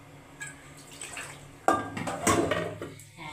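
Eggplant pieces lifted from water and dropped into a simmering fish curry of rohu with potato and cumin, giving a sudden wet clatter and splash followed by a few more clinks and plops of the pot, close by with no talk.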